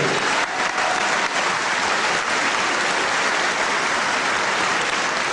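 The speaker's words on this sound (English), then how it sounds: "I doubt if the crowd will stop applauding before the start of round 6" Wrestling crowd applauding steadily between rounds of a professional bout, a dense, loud, continuous wash of clapping that stays level throughout with no break.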